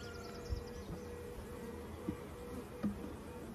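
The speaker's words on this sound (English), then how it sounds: "Good bee volume still," A steady, close drone of honeybees buzzes at an open hive during a frame inspection, a continuous even hum with a few faint knocks of handling and no talk.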